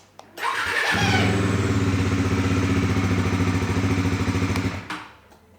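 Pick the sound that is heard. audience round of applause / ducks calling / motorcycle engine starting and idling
motorcycle engine starting and idling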